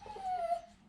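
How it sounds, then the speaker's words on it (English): A dog whimpers in a single drawn-out whine, faint and somewhat distant, with no talking. "you might hear my dogs in the background"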